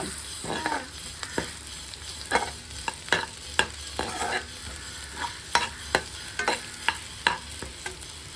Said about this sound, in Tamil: இப்போ பச்சை மிளகாய் போட்டுட்டாச்சு. இது வந்து நல்லா வதங்கணும்.